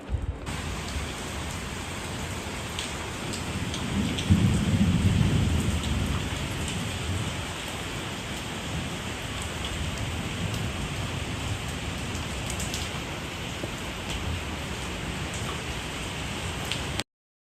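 Heavy rain pours steadily and close, a dense hiss that lasts the whole stretch, with a low rumble of thunder swelling early on before fading back under the downpour.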